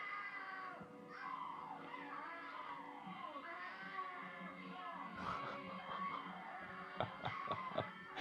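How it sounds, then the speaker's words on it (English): A woman screams in a long, strained, wavering wail, heard at a distance over background noise, with sharper cries and clatter near the end. "Just the way she screams."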